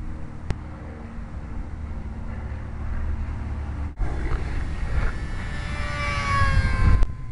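A Champ RC model airplane on its stock motor with a 503L prop and a 250 LiPo battery flies alongside another plane, giving a steady whiny engine drone that swells and grows louder toward the end.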